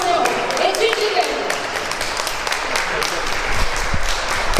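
Applause at a wrestling press conference, a crowd clapping steadily at moderate loudness with sharp individual claps and some voices mixed in underneath.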